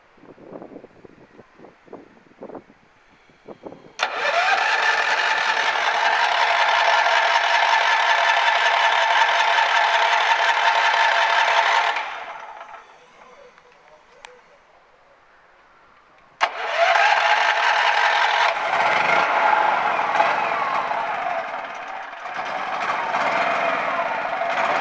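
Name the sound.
modified generator starting and running on propane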